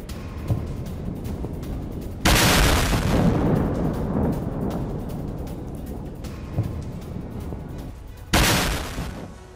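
Explosions from Israeli air strikes on Gaza: two heavy booming blasts a few seconds apart, each followed by a long rumbling roar that slowly fades, with lighter crackling and distant bursts between them.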